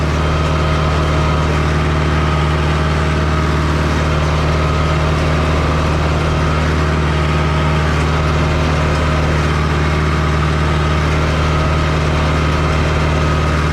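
A steady, droning tractor engine idles close by, its low hum constant and unbroken, with no talking.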